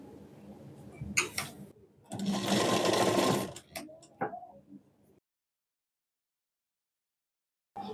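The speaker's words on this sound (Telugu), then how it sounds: "ఇప్పుడు తాళ్ళు పట్టిని కూడా స్టిచ్ చేసుకుందాం." A sewing machine stitching a strip of lehenga fabric, running in short bursts and then one sustained run of a second or so, followed by silence before the motor starts up again briefly at the end.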